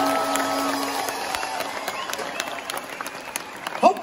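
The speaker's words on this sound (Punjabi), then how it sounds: "ਮੇਰੀ ਦਾਦੀ ਖਾਤਰ ਤਾੜੀ ਮਾਰ ਦੋ ਇੱਕ ਵਾਰੀ।" A concert crowd at an outdoor show claps in a steady, moderately loud wash, with faint voices and a brief sharp burst near the end.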